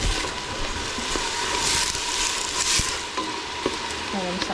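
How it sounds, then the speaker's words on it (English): Chopped onions and peppers sauté in a pan for a family dinner, a steady close sizzle with light stirring and faint utensil clicks, no voices. "So just kind of soften the onions and peppers."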